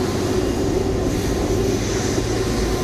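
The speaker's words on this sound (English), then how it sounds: "it's a big beautiful plane colored in" Large passenger plane painted in the red colours of the Turkish flag arriving, a loud steady engine roar with a sustained low hum and broad rushing noise, no talk over it.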